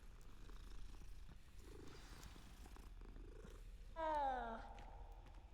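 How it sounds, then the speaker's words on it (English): Cat purring in the Hogwarts Legacy video game as it rubs against the player: faint low rumbling purr under soft game ambience, followed by a short, louder meow-like cry near the end. "Nice little cat rubbing up against us there."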